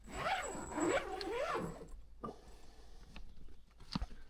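A zipper is pulled open in a couple of quick rasping strokes, close up, followed by a few soft clicks and taps.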